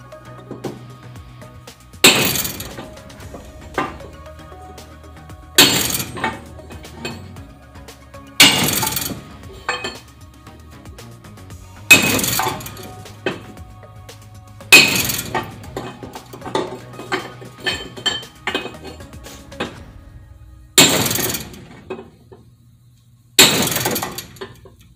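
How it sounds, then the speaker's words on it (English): A heavy 15-pound sledgehammer strikes metal in a shop while forging or fitting an old leaf spring plate for a truck build. Eight loud, ringing blows land a few seconds apart, with lighter clanks and taps between them. "Hammer right there is heavy. That's like a 15-pound sledge."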